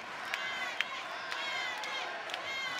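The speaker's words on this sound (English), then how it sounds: "Crowd here all around us, cheering Stankovic on." Arena crowd noise during a World Series of Boxing bout: a steady, dense roar of spectators cheering, with short sharp shouts and claps standing out every half second or so.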